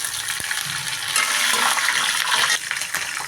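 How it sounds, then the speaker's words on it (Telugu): Green chillies sizzle in hot tempering oil with fried seeds for lemon rice, making a loud, continuous crackling fry with occasional stirring scrapes close by. "ఇప్పుడు తాలింపు గింజలన్నీ వేగిపోయినాయి ఇప్పుడు పచ్చిమిర్చి కూడా వేసేసుకోండి"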